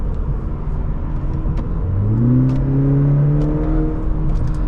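A 2020 Cadillac CT4-V AWD revs up while driving, its engine note climbing steadily in pitch as it accelerates and then holding a high, strong drone over constant road rumble, close and loud.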